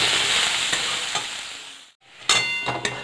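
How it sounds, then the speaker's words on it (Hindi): Veg momo filling frying in a hot pan with a loud steady sizzle, stirred with occasional spatula scrapes; the sizzle cuts out briefly, then resumes with sharper stirring clatter. "इसको भी थोड़ा सा फ्राई कर लेंगे"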